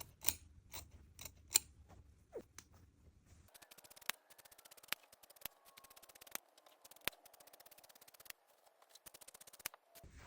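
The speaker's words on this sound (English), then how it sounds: "Cut out all the pieces." Scissors cut out fabric pieces for a crop top, giving a quiet series of crisp, close snips in an uneven rhythm, followed by lighter repeated clicks of the blades.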